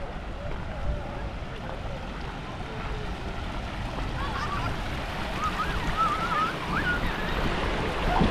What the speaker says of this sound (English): this is the Princess Diana Memorial Fountain